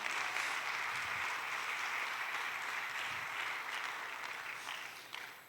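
A church congregation applauding steadily, with dense continuous clapping that fades slightly toward the end.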